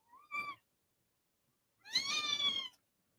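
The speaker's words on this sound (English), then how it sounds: "You hear drama kitty?" A drama-prone kitten gives two meows, a short one followed by a longer, louder, drawn-out cry after a pause, close by with no talking.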